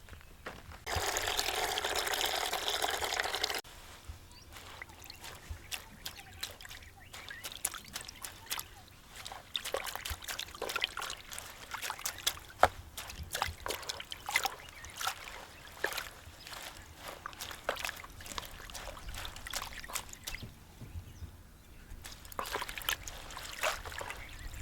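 Water is poured over fenugreek leaves to wash off soil. Two strong gushes come near the start and end, with quieter sloshing, trickling and handling noises between them and no talk.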